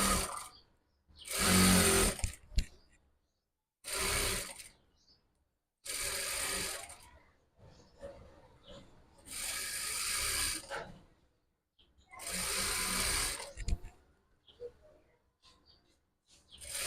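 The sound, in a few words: sewing machine stitching a hijab hem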